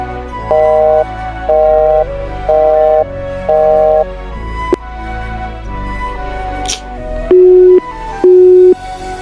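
Repeating phone call tones on an unanswered call, loud steady beeps in a regular on-off rhythm, four higher tones followed by two lower ones, with no voices.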